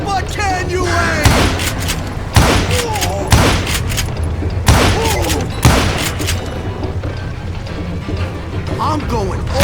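Gunfire in the western shooter Call of Juarez Gunslinger: several loud, sharp shots ring out at irregular intervals across a busy game soundscape, with a voice talking over the action.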